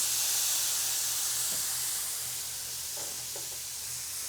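Tequila poured into a hot pan of shrimp sets off a steady, loud sizzling hiss that holds for several seconds and eases slightly, with no voices.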